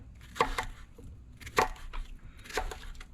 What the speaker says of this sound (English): And then I just cut it into maybe 1-inch pieces, 1-inch chunks.